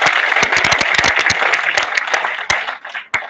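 Audience applause at a national seminar, dense clapping from a seated crowd that thins out toward the end, with a few sharp louder claps standing out near the close.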